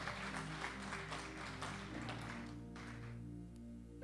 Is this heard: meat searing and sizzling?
no